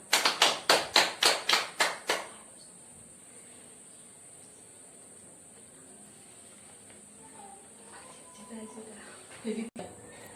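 Schoolchildren clap in unison in a classroom during an Indonesian history lesson: about eight sharp, rhythmic claps in the first two seconds, then a quiet room with faint murmurs and a soft voice near the end.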